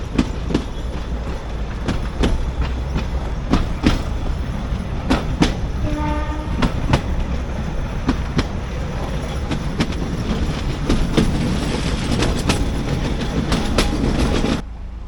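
A narrow gauge passenger train on the Bilimora–Waghai line rolls steadily along the rails with rhythmic wheel clatter and rail clicks, and a horn blast sounds midway, loud and close throughout.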